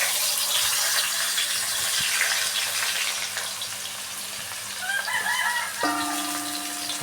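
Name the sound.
onions frying in hot oil for kothu porotta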